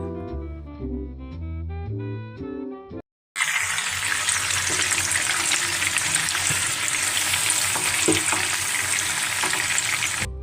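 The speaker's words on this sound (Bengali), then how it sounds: "একসাথে কিছুটা চিকেন দিয়ে দিলাম, ব্যাচ ওয়াইজ ভেজে নিলাম।" Chicken pieces frying in a batch of hot oil: after a few seconds of melodic music, a loud, dense, continuous sizzle takes over and holds steady to the end.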